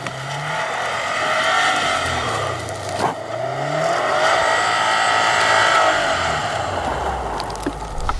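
A 2016 Subaru WRX STI with four-wheel drive drifts sideways on a snowy mountain road in Switzerland, its engine revving hard and rising and falling, with tire noise and one sharp crackle partway through, loud and close.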